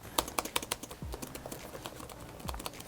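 Keys clack in an irregular run of sharp taps on a Chromebook laptop keyboard with good key travel and wrist support, close and fairly quiet, with no voices.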